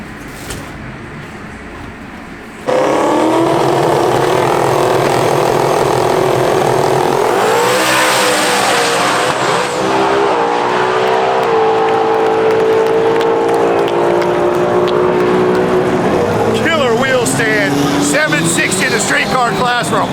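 A Ford Mustang drag car at the TX2K drag racing event roars loudly as it launches, its engine revving and shifting through gears as it pulls a wheelie, with crowd noise and voices underneath.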